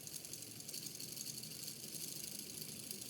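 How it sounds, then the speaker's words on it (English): A small push-start DC motor model, its speed set by magnets, runs with a faint, steady whir and slight rattle throughout, with no pauses. "this is a push start motor"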